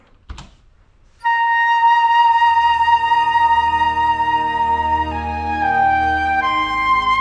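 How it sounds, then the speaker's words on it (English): Warm orchestral string chords from the Symphobia sample library swell in after a brief click and hold as sustained, full-ensemble harmonies, changing chord partway through, rich and steady with no talking. "I wanted to add like a warm string sound on top of this, so I just started with running some chords on each other"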